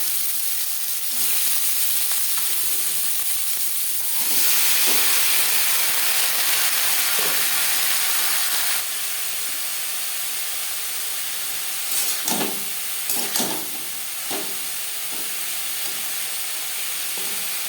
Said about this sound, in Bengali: পনেরো কুড়ি সেকেন্ড জিরে ভেজে নেওয়ার পর দিয়ে দেবো কাঁকরোল